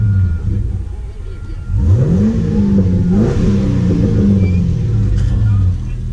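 A Chevrolet Camaro engine revs loudly up close at a car audio show, a deep rumble that climbs sharply in pitch, holds high, then eases back down while people talk nearby.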